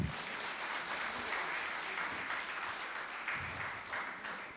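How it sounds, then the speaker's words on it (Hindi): Sustained applause from a conference audience at a business forum in Pune, a dense, steady wash of many hands clapping throughout, fairly loud with no voices on top. "बाकी सारे भाई लोग ज़ोर से ताली बजाएं।"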